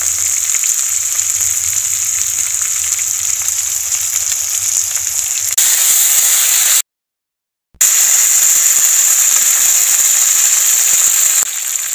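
Sliced onion and ginger garlic paste frying with chicken for a Bengali-style chicken stew, a steady loud sizzle with a brief silent break partway, then the hiss resumes strongly.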